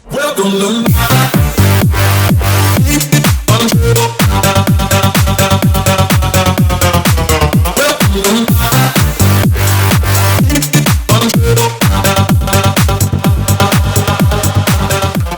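A full remixed song plays loud and continuous, with a driving beat and layered melodic parts throughout.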